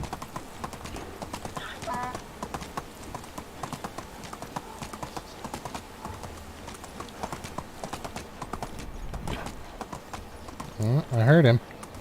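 Donkey hooves clop steadily in the video game Medieval Dynasty, a regular close rhythm throughout with a voice at times and a brief animal call near the end.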